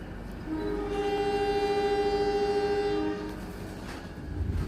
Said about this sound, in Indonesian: Oke, sudah berangkat dari stasiun Purwosari.